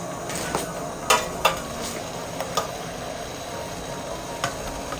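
Steel glasses filled with puttu being set one by one into a pot of boiling water with a small-holed rice strainer: a few light metallic clinks and taps over a faint bubbling, hissing background, no talk.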